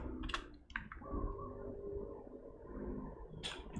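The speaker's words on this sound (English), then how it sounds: "Typing in Vim." Keys clatter on a computer keyboard while someone types in the Vim editor during a C programming lesson, a few quick clustered clicks near the start and a single burst at the end, with a low hum between.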